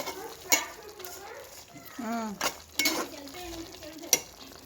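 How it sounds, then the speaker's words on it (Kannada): Coriander powder and turmeric frying in a pan while being stirred, with scraping strokes and a soft sizzle at close range, a voice sounding faintly in the background. "1 ಸ್ಪೂನ್ ಧನಿಯಾ ಪುಡಿ, ಅರಿಶಿನ ಪುಡಿ ಸ್ವಲ್ಪ ಹಾಕಿ ಮತ್ತು ಫ್ರೈ ಮಾಡಿ ಎಲ್ಲ ಕಲಸಿ ಕ್ಲೀನಾಗಿ ಫ್ರೈ ಮಾಡಬೇಕು."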